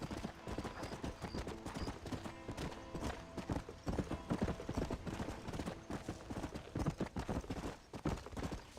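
Horse hooves clip-clop steadily in Red Dead Redemption, a close, even rhythm of game footfalls with a faint whinny, carrying on without break.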